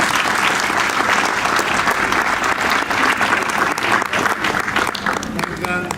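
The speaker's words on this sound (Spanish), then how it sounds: "pido fuertes aplausos para la mesa de honor" An audience at a university tribute ceremony and book presentation for the poet Carlos Eduardo Zavaleta applauds the guests of honor at the head table. The applause is loud, dense and sustained and fills the room throughout.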